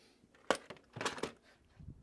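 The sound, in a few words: bolts dropped into a parts bin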